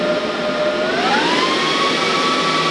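A handheld power carving tool spins up near a wood sign, a loud steady whine that climbs in pitch and then holds a constant high tone.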